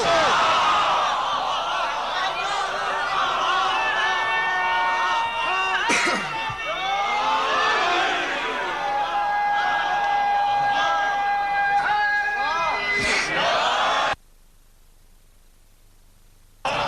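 A crowd at a Shia majlis chants slogans together, many loud, close voices rising in waves with sharp shouts, then stopping abruptly into near silence.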